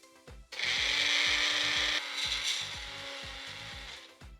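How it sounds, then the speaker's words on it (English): A blender grinds cheesecake crust ingredients mixed with olive oil into a fine sand, giving a loud, steady motor whir with rattling and clattering that runs nearly the whole clip, dipping slightly partway through. "Next, we're gonna blend this up till it's really fine."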